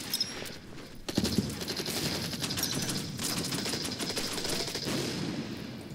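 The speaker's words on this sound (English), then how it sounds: "Let's go ahead and open fire here with our artillery as well." Artillery and gunfire in the WWII strategy game Order of Battle WWII, a dense, continuous rattle of shots and booms that starts abruptly about a second in and keeps up steadily, loud and close, with no talking.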